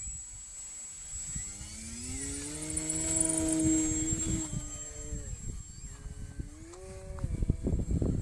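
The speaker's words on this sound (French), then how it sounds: "j'essaye de décoller lentement en 5S" Electric RC plane on a 5S LiPo battery with full flaps taking off slowly, its motor whine rising and steadying in pitch, fairly close over outdoor background noise.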